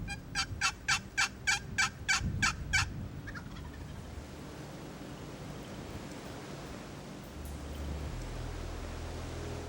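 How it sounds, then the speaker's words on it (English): A wild turkey gobbler gobbles in a fast burst of about eight sharp, loud calls from a hill during a spring hunt, then falls away to breezy outdoor ambience with low wind rumble. "There's a gobbler right there on the hill."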